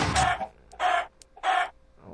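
Minecraft chickens clucking in a video game: three separate bursts of clucks at a steady rhythm, loud and close, with no talk over them.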